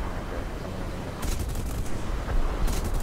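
Rocket fire from a jet in War Thunder comes as two loud bursts over a steady engine roar, with the second burst landing about a second and a half after the first.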